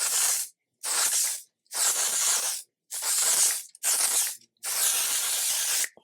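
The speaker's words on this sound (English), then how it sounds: "L'Oreal Infallible 3-second spray." L'Oreal Infallible 3-second hair spray hisses from an aerosol can in six close, loud bursts of about half a second to a second each, separated by short silent gaps.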